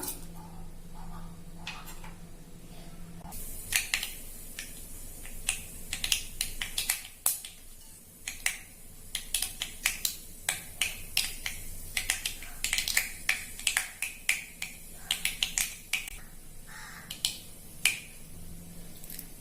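Rapid, irregular popping and crackling of mustard seeds spluttering in hot oil, sharp snaps scattered over a continuous sizzle, close up.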